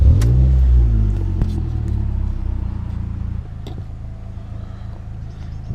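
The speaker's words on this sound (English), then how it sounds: "I'll start the car up so you can hear what it's like with the exhaust" A Ford Fiesta ST with a Milltek exhaust starts up and revs, a loud deep rumble that swells at first, then settles into a steady, slightly lighter idle burble.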